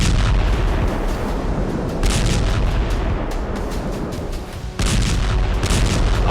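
MK-84 free-fall unguided bomb explosions in Gaza, heard as a dense, loud, continuous roar of blasts and rumbling booms with a few sharper bursts, filling the whole stretch without talk.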